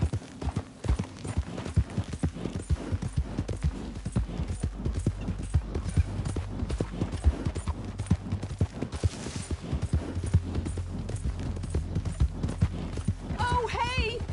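A horse in Red Dead Redemption 2 gallops steadily, its rapid rhythmic hoofbeats clip-clopping loud and close for the whole stretch, with a brief whinny-like sound near the end and game voices faintly underneath.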